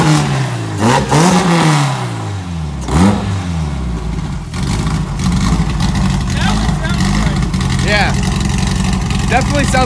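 A nitrous-fed all-wheel-drive Honda revs hard on a dyno, its engine note sweeping up and down in repeated loud pulls before settling into a steady, crisp high drone, close and dominant throughout.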